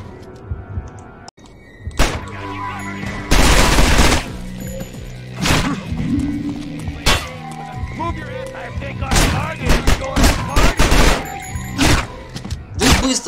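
Gunfire in the Manhunt video game: a series of loud, sharp shots and blasts, some isolated and some in quick clusters, with thuds between them and game sounds underneath.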